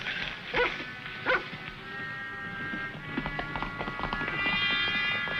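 A dog barks a few times in short separate bursts at moderate distance amid rustling outdoor movement and hoof-like clatter, fairly faint with no talking.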